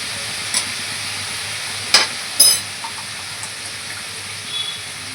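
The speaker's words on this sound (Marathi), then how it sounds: "थोडंसं भाजून घेऊया त्याला." A besan mixture roasts in a pan, giving a steady, close, gentle sizzle broken by a few sharp scrapes and clinks of stirring, with no one talking.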